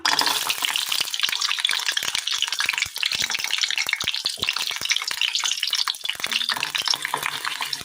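Garlic dropped into hot oil in a pan, a dense steady sizzle with crackling spatter running throughout, close and fairly loud with no voices.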